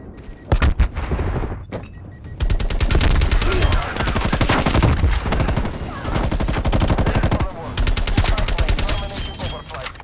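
Heavy gunfire in the video game Black Ops Cold War plays as rapid automatic bursts and explosive booms, loud and dense, with game voices underneath.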